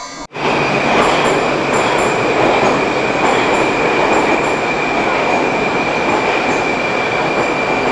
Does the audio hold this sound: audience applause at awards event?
no